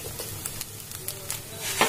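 A spoon stirs roasted cumin powder into dabeli masala in a hot pan, giving soft scraping strokes over a light sizzle, close and steady.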